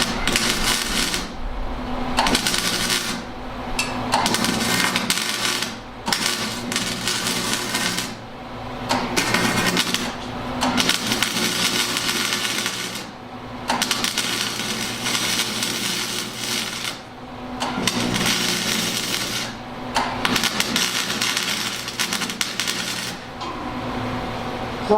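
Flux core welder patching a hole in metal on a welding cart build, a steady loud crackling buzz in repeated bursts of a few seconds each, broken by short pauses between welds.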